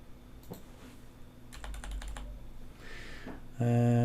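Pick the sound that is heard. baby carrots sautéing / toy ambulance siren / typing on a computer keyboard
typing on a computer keyboard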